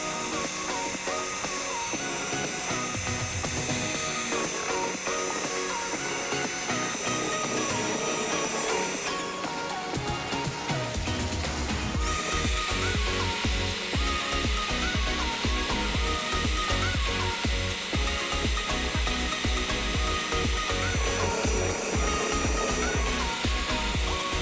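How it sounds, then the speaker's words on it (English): Paddle wheel mixer churning epoxy with brass metallics, a continuous loud whirring drone that holds steady, shifts pitch near the middle, then carries on without pause. "Now we'll add the brass metallics. And then mix with the paddle wheel."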